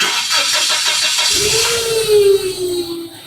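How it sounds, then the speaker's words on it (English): A forklift engine cranks and catches, a rough churning that settles into a rising, steady mid-pitched run, loud and close, heard without talk. "We'll start the vehicle."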